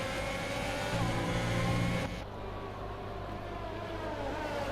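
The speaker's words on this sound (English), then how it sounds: "Listen to that Ferrari engine." Ferrari Formula 1 car engine in the F1 2020 racing game during a wet British Grand Prix, a steady high-pitched drone with rising harmonic whine that drops in intensity partway through, heard alone without talk.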